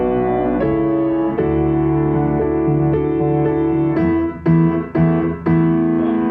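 Piano playing a repeating accompaniment pattern of sustained chords, with a few sharper re-struck notes toward the end, clear and up close.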